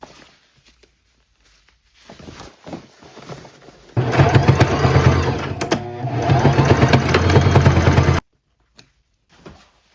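A home sewing machine top stitches a short seam on a patchwork maxi skirt, a loud, steady mechanical whir lasting about four seconds, preceded by faint handling noises and followed by quiet.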